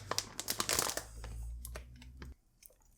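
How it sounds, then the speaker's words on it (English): Seal sticker peeled off a Gigabyte Aorus Master 3060 Ti graphics card box, a run of close crinkling, crackling tears over a low background hum, then a few soft taps as the peeling ends. "So let me peel off the sticker."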